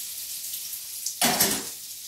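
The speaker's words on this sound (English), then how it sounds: "now we're going to just cook off the asparagus and the shallot" Asparagus and shallot hit a hot pan with a sudden burst of loud frying sizzle that swells for about half a second, then settles back to a faint background hiss.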